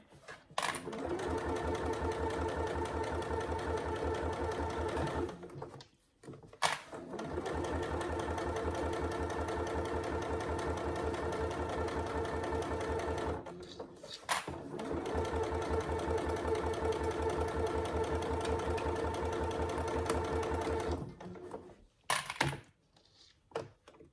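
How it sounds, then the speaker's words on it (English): A sewing machine stitches a fabric saddle bag in long, steady runs of rapid mechanical whirring. It stops briefly between passes. "make sure your bobbin is full for this bit, because it's a lot of sewing"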